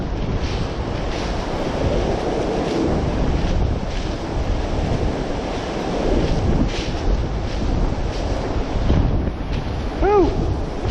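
Strong wind roars steadily across the microphone on a trail to Meadow Creek Fire Tower in Cherokee National Forest, a heavy constant rush with gusting swells and no pauses.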